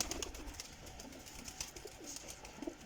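Pigeons coo softly and repeatedly at a moderate distance, a low, gentle murmur under faint background noise.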